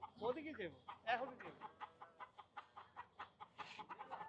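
Chickens cluck in a steady series of short, evenly spaced calls, fairly faint, after a brief burst of nearby talking at the start.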